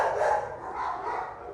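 Faint outdoor dog barking, a couple of soft, distant barks blurred into steady background noise with no speech.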